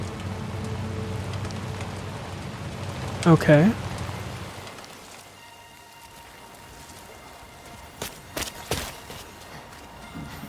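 Timefall rain in the video game Death Stranding 2 pattering steadily for the first few seconds, then thinning to a quiet hush with a few sharp clicks and taps later on; a voice speaks briefly.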